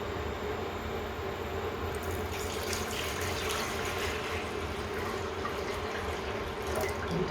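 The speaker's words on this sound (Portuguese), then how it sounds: "Eu vou botar a água já" Water pours from a tap into a cooking pot while a light vegetable stock is being prepared. The filling rush is close and continuous for several seconds.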